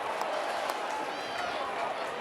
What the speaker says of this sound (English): Daniel Shell getting a little bit of a razoo from the crowd